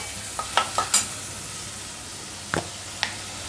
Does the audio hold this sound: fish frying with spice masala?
yes